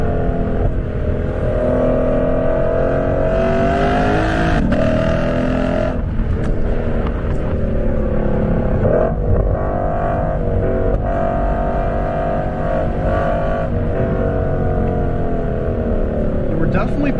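A Lexus RC F with a V8 engine driven hard through corners, its engine droning loud and steady with rising and falling revs and brief shifts throughout, under a voice talking over it.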